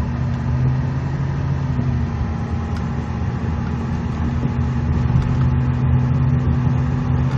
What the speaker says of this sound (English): Rides really good, takes off pretty quick.